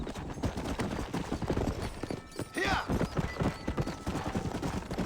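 Horse hooves in the Red Dead Redemption video game, a quick clip-clop gait pounding steadily close by, with a brief whinny partway through and a voice talking over the galloping.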